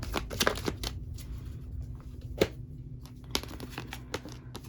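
A deck of tarot cards is shuffled close up in a steady run of crisp riffling and slapping bursts, with a few sharper snaps standing out over a faint low hum.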